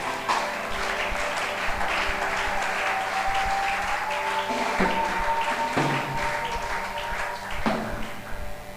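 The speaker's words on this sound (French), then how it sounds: "Est-ce qu'on peut acclamer Dieu?" A church congregation breaks into sustained applause to acclaim God, many hands clapping in a dense, even roar that swells and holds for several seconds, with a brief sung or held tone drifting underneath.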